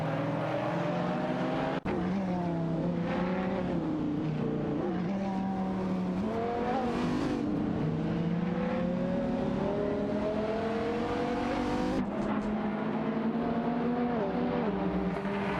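In a racing video game, several engines whine and rev continuously up close, pitches rising and falling as cars jostle and overtake, with a sharp click early on and another shift in tone near the end.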